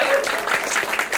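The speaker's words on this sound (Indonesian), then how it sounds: "Tepuk tangan untuk beliau." A crowd at a night run event applauding, a dense wash of clapping that holds steady for a moment, fairly loud and close.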